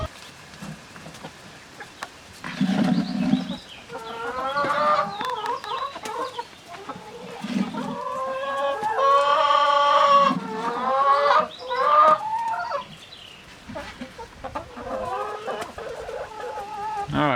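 Egg-laying hens cluck and chatter close by while pecking at worms, with repeated clucks and short calls rising and falling throughout.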